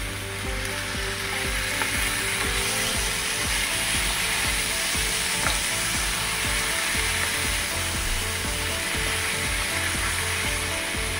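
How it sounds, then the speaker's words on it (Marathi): Chicken mince (kheema) sautés in a pan for a Malvani/Goan snack, a steady close sizzle with scraping and stirring strokes running throughout. "खिमो टाकल्यावर थोड्या वेळ आपल्याला परतत राहायचो होतो"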